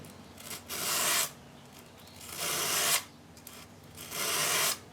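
A tool edge is drawn across a 240-grit ceramic sharpening stone in three long, steady rasping strokes with short pauses between them. The scraping is close and moderately loud, and no one speaks.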